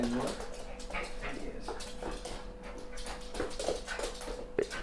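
A dog whimpers in soft, high, repeated whines close by, with a person talking quietly over it.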